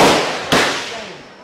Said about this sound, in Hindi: यहाँ पे आप AK-47 और अलग अलग तरह के जो गन्स है वो फायर करने का आनंद उठा सकते हैं।